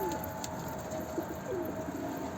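A pigeon coos near a coop, soft repeated calls rising over steady outdoor background noise at moderate distance.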